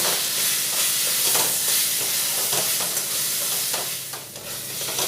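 Spice masala with Kashmiri red chilli powder and garam masala powder being fried and stirred in a pan for ghugni, a loud dense continuous sizzle with scraping strokes of a spatula throughout.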